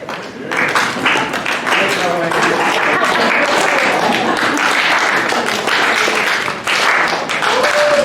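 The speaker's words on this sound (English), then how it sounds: "Slow clap." Audience in a college debate hall giving a slow clap that builds into sustained, dense applause, loud and close throughout with some crowd voices mixed in.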